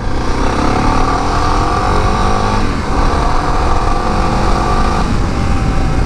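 Suzuki DR650 or Yamaha Tenere 700 adventure motorcycle engine running steadily at close range, a loud continuous drone with shifting tones as revs change, no voices.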